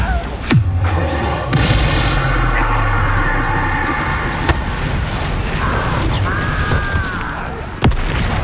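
A Bombarda spell explosion in Hogwarts Legacy lands as a loud boom, followed by a rumbling tail and a few more sharp impacts and thuds amid ambient game sound.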